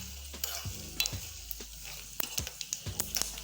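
Dried red chillies and mustard seeds frying in hot oil in a small tempering pan, with a soft steady sizzle broken by several sharp clinks and scrapes of a spoon stirring against the metal.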